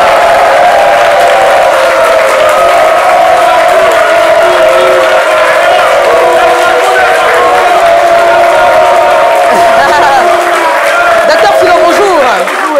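Studio audience at a live midday TV show claps and cheers loudly and steadily, a dense wash of applause with whoops and chatter mixed in throughout.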